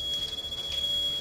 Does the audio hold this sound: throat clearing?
no